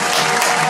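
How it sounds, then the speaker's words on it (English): A loud, brief burst of dense crowd clapping, played as a sound effect and cut off abruptly. "Clap it up."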